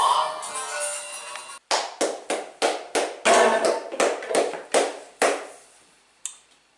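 Sharp isolated hand claps or taps in an irregular sequence after a sustained noisy passage, about a dozen distinct near slaps with short decays, sparse rather than a full crowd ovation.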